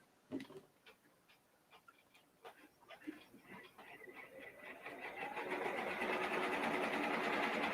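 An embroidery machine stitches foam on a cap frame, starting with slow separate ticks and clicks under nearby talk, then speeding up into a loud, steady, rapid mechanical whir.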